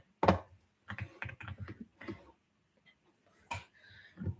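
A computer keyboard's tab key pressed repeatedly while playing a crafting game on a hardcore world, a string of close, crisp clicks in irregular clusters with short quiet gaps.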